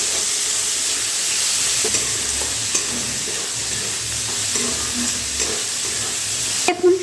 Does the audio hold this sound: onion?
yes